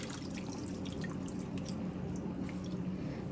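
Water drips and trickles from a squeezed mass of wet paper pulp into a bowl, a steady close patter of small drops with no talking.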